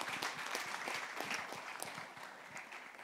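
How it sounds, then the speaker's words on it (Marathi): Applause for Tejaswini and Varda at a Marathi movie trailer launch, a crowd clapping in quick irregular bursts that starts loud and eases slightly toward the end, heard at a low overall level. "तेजस्विनी आणि वरदासाठी सुद्धा जोरदार टाळ्या."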